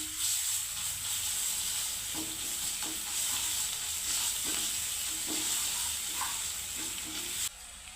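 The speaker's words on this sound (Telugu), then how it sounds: "ఇది పచ్చి స్మెల్ అల్లం స్మెల్ రాకుండా కర్రీలో ఇలా వేగనివ్వాలి మనం" Onions and ginger sizzle steadily in a pan for a Telugu dried-fish curry, a constant close hiss broken by periodic scraping strokes of a spoon as the mixture is stirred; no talking.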